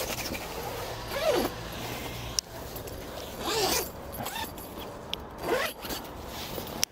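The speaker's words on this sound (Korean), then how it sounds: "세 개는 각각의 지퍼로 네, 다 작동할 수 있습니다" Zipper on a clear window of an iKamper Skycamp 2.0 rooftop tent, mounted on Thule crossbars atop an Infiniti QX60, pulled in three separate runs with rasping slides and small clicks, close and fairly quiet, with no speech.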